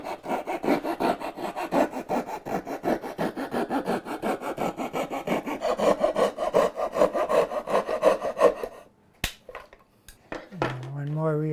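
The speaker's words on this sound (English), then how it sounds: "I'm using a little piece of plywood to back and to give a little bit of strength while I'm doing the sawing" Coping saw cutting a thin piece of wood backed by a scrap of plywood, a steady run of rapid close rasping strokes for several seconds, then a pause with a few knocks and a brief voice.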